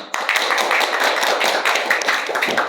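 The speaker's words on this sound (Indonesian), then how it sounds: "Tepuk tangan dulu." A crowd claps and applauds steadily, dense overlapping hand claps filling the room for a few seconds without a break.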